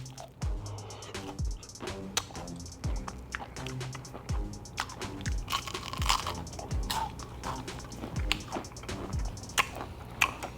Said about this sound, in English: but listen to this crunch